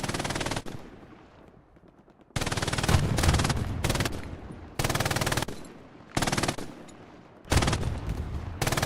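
Mounted machine gun firing in a competitive online shooter match, long sustained bursts of rapid automatic fire separated by brief pauses, loud and close throughout.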